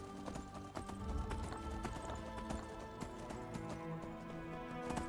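A donkey walks in the video game Enderal, its quiet, rhythmic hoof clip-clops running steadily under a layer of background music.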